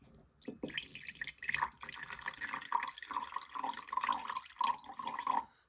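Anise hyssop vinegar poured into a container, a faint, uneven trickle and drip of liquid running for several seconds, quiet and close.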